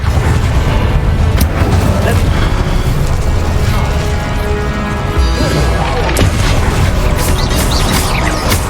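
Spell combat in Hogwarts Legacy with Incendio fire casts, dense and loud booming bursts and crackling blasts layered over game music, continuous throughout with no pauses.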